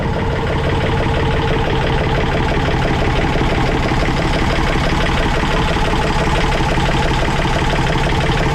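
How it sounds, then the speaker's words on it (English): A Yanmar 3JH5EC marine diesel engine aboard a Leopard 44 catamaran runs close by at a steady, loud idle, with an even rhythmic chug and mechanical vibration throughout. "now we are going to check the engines running."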